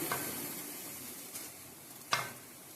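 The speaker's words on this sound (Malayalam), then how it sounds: "നമ്മൾ അരപ്പ് ചേർത്ത് കൊടുത്ത് അതിൻ്റെ ആ പച്ചമണം ഒന്ന് പോകുന്ന വരെ ഒന്ന് ഇളക്കി കൊടുക്കുക" Ground masala paste frying in a pan for an egg dish, giving a soft continuous sizzle with a few sharp scraping stirs, quiet and close, without speech.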